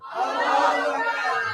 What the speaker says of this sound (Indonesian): semuanya langsung tepuk pundak sebelah kanannya, teriak Allah